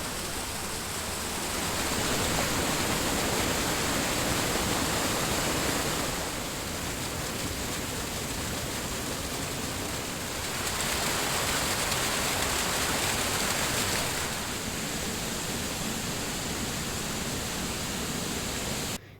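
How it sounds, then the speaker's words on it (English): Cold river water rushes under high pressure near a campground, a steady, loud, broadband roar that surges and eases slightly over time, with no voices. "A lot of pressure!"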